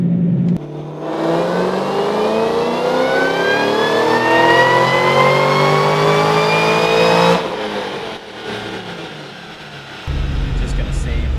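A 2014 Shelby GT500 running butane fuel pulls hard on a chassis dyno, its engine rising in a long, loud sweep for about seven seconds before cutting off, with a lower idle and rumble trailing after.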